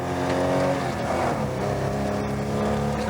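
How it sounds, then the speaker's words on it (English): Classic saloon cars, a Ford Zephyr and a Volvo 544, race hard on a road stage, engines loud and close, revving steadily under load without pause. "a mere Volvo 544 dares to overtake, with John Handley driving it"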